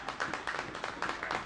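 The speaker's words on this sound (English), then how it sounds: "You can hear the applause from those who are in Aggborough tonight" A small crowd of spectators at the Aggborough football ground applauds during an under-23 match between Wolves and Reading, a faint and steady patter of clapping heard from a distance.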